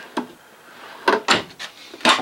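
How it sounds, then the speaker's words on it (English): Drawers in a 2019 Thor Quantum WS 31 RV slide on ball-bearing metal guides. Several short, close rolling slides and soft knocks come in quick succession, with quiet gaps between them. "All on the ball bearing metal drawer guides."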